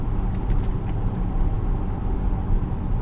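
Steady road rumble from a 1998 Mercedes-Benz CLK320 gliding over a bumpy Australian road, a continuous low drone of tyres and engine with no clear jolts standing out.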